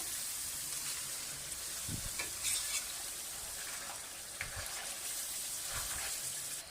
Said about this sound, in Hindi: चिकन के साथ मिसालों की हमने बहुत अच्छी तरह से भुनाई करनी है।